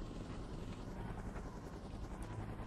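Helicopter arriving in the video game SOS: The Ultimate Escape, a steady, continuous rotor drone at moderate level throughout, with no distinct blade chop standing out.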